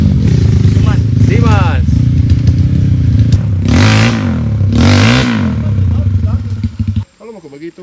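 A Kawasaki dirt bike revs hard on a steep uphill trail climb near Maros. The engine rises and falls in repeated loud surges, close by, with people talking over it before it suddenly cuts out.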